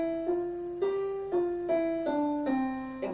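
A piano plays a slow run of single notes, each struck unevenly with jerky timing and varying loudness, the choppy playing typical of beginners, heard alone with no voices.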